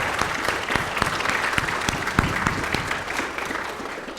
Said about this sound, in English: Can we give our band and our choir one more round of applause?